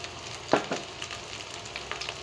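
Potatoes for chukka fry in a pan with a soft, continuous sizzle, broken by a couple of sharp spatula clatters and scrapes early on, at close range and without talk.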